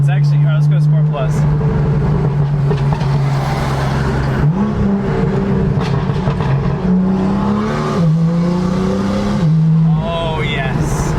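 A straight-piped BMW M2 with a Stage 1 Bootmod3 tune accelerates hard in Sport Plus mode, its loud, close exhaust rising and dropping through several gear changes, with a voice talking over it.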